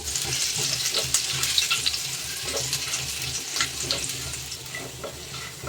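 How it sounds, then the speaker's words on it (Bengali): Thinly sliced garlic and long thin strips of ginger fry together in a hot pan, giving a steady crackling sizzle with occasional stirring scrapes throughout, close and continuous with no talk. "এটাকে আমি ভেজে নেবো রসুন আর আদা একসাথে"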